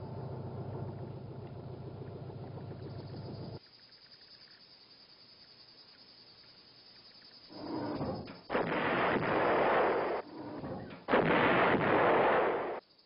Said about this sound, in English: The 130mm field gun had a range of 19 miles, further than any comparable American gun.